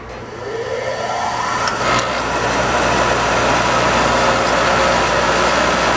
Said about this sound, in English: I'm going to pull this out and break that capacitor circuit while the motor's running